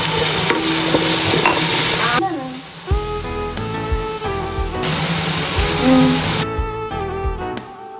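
Cardamom and cinnamon frying in a pan as the base for ghee rice, a close sizzle with scraping stirs, while a voice or tonal background sound comes and goes over it.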